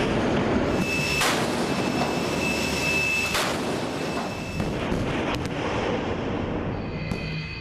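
Naval artillery firing at air and sea targets during a snap combat-readiness exercise of the Southern Military District, heard as two or three sharp, loud blasts over a steady roar of ship or engine noise, with no voices.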